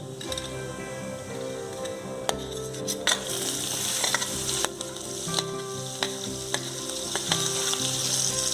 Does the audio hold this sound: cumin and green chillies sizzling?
yes